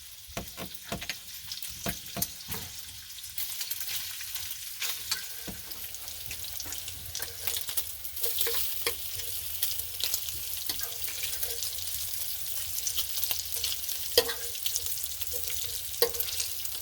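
Water at a rolling boil in a pot, a steady sizzling, bubbling hiss that continues throughout with occasional sharper pops, heard close and alone.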